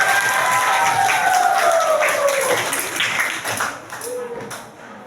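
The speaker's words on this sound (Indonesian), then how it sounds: "Tepuk tangan buat semuanya." An 8th-grade class claps together in a classroom, loud and steady at first and then thinning out, with some voices and cheering mixed in and a whistle-like tone passing over it.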